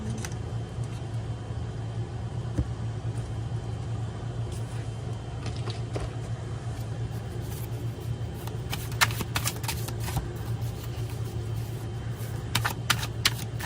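Tarot cards are shuffled over and over in soft riffling bursts that grow crisper toward the end, set against a steady low hum.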